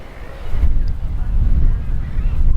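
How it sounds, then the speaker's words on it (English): Gusty wind buffets the microphone on the chilly Oregon coast near Newport, a steady low roar and rumble that swells and eases throughout, with no voices. "Windy and chilly like they said it would be."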